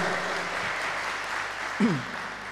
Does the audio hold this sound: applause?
yes